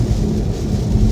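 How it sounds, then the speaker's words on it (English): Rain and road roar inside a car driving south out of Chicago, a steady, loud low rumble of wet tires and drumming water on the windshield, continuous with no voices. "driving south out of Chicago, it's raining"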